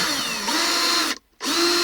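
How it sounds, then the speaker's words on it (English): A power drill chews holes in a thin plastic bucket, its loud, close whine running steadily, cutting out for a moment, then starting straight back up. "I finished drilling the holes in this bucket."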